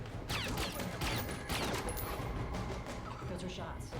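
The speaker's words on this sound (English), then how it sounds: "Those are shots." Bursts of gunfire crack through a dense, loud action-film scene from The Bourne Supremacy, with several sharp shots over a thick roar of effects and music, and faint voices mixed in.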